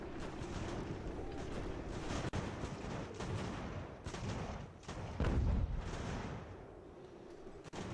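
Artillery fire in Ultimate General: American Revolution, a dense run of distant booms and crackling volleys rolling on steadily, with a heavier deep thump near the middle, no voices over it.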